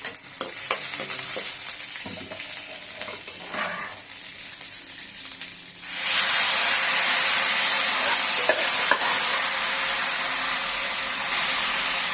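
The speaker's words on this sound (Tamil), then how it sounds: "அப்போ வடகம் பொரிச்சு இதில் கருவேப்பிலை" Vadagam and curry leaves fry in a pan with oil, giving a loud, dense sizzle that swells sharply midway and holds steady with occasional stirring scrapes.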